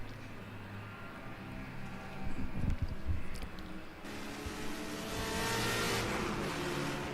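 Race car in the ChampCar 14-hour endurance enduro at Sebring International Raceway, engine droning steadily with louder surges as it accelerates, a brief passing rush midway, and continuous wind and road noise.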